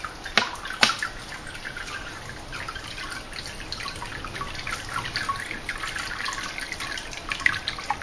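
Waste oil trickling and dripping steadily through a Mighty White filter, a continuous liquid dribble with a few louder drips near the start, close and fairly even throughout.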